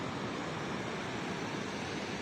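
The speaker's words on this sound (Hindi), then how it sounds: "ये झरना एक और" A waterfall on the mountain trek to Chanju Khundi Mata in Chamba rushes in a steady, dense roar of falling water, constant and moderately near, with no voices.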